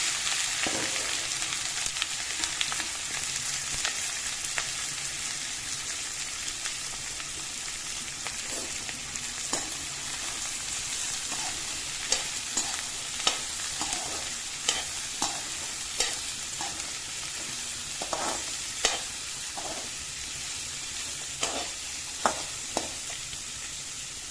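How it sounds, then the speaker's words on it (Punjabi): Chopped onions fry in hot mustard oil in a pan for a bitter gourd bhurji. A steady soft sizzle runs throughout, broken by repeated sharp scrapes and clicks as a spoon stirs them. "ਆਪਣਾ ਤੇਲ ਗਰਮ ਹੋ ਗਿਆ ਸਰੋਂ ਦਾ ਤੇਲ ਪਾਇਆ ਮੈਂ ਇਹਦੇ ਵਿੱਚ ਆਪਾਂ ਪਾਵਾਂਗੇ ਪਿਆਜ਼"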